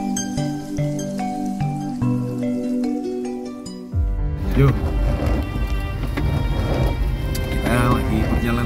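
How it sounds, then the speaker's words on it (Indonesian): Rain falls on the foggy summit of Mount Kelir, a broad, steady hiss that takes over after a few seconds of tonal music. "Kebetulan juga turun hujan."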